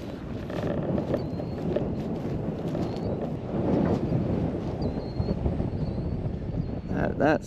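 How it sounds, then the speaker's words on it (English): Wind blowing across a microphone outdoors on a farm, a continuous low rumbling roar with gust swells, fairly steady across the whole stretch. "know it's a little windy out here, so sorry about the wind"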